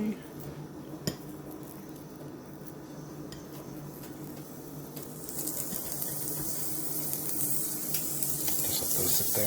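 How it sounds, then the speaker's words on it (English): Sage sausage fries in a pan at a home breakfast stove, a soft steady sizzle with occasional clinks of a utensil against the pan, the crackle growing brighter and louder toward the end. "now while the sausage is frying"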